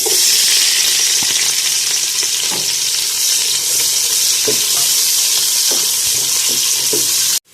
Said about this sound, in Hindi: इसके अंदर हम 3 स्लाइसिस में कटी हुई प्याज ऐड करेंगे और उनको हल्का सा फ्राई कर लेंगे।